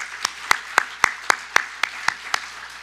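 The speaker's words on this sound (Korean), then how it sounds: "우리 하나님께 영광의 박수 한번 올려드립니다" A church congregation claps in unison, about ten crisp, evenly spaced beats in a steady rhythm, loud and close with no talking.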